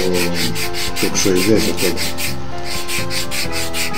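Sandpaper rubs a handmade wooden fishing lure in quick, regular back-and-forth strokes, close and loud, while someone talks briefly over it.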